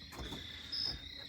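Crickets chirping at sunset in Wellfleet, Cape Cod, a faint high steady trill with a brief brighter burst, heard quietly against soft outdoor ambience.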